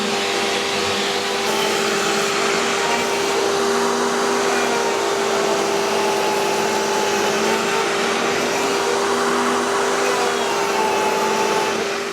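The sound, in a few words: router sled flattening wood slab with dust extraction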